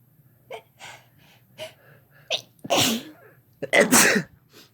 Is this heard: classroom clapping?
no